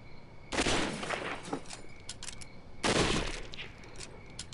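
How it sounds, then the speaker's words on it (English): Gunfire in the video game SWAT 4, fairly quiet: two separate rapid bursts of shots, each trailing off in rattling echoes, with a short pause between them. "I'm gonna shoot him straight off the bat"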